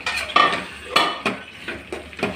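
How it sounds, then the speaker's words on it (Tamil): A utensil stirs chicken into masala for a pepper chicken semi-gravy, scraping and clinking against the pan in a steady rhythm of about five strokes over a soft sizzle, close up and without talk. "இனி எடுத்து வச்ச சிக்கனும் ஆட் பண்ணி நமக்கு நல்லா மிக்ஸ் பண்ணி விடலாம்."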